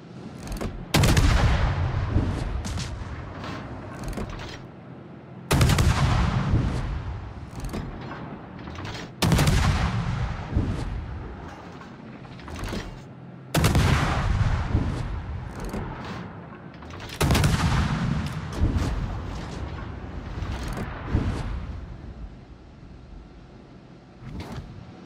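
Naval guns firing at an enemy warship in a battle video game: five heavy, booming salvos spaced a few seconds apart, each a sharp loud blast trailing into a long rumbling decay.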